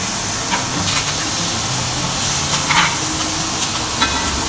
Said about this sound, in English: We have olive oil, herbs, cloves, and now we're gonna put this steak.